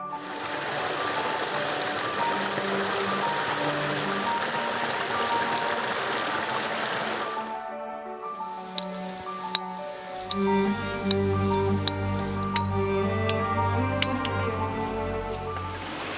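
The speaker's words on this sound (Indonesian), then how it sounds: "kita udah ketemu sungai nih" A river stream flows in a steady broadband rush that changes character halfway through, with gurgling, bubbling water and occasional sharp drips and clicks, close and continuous.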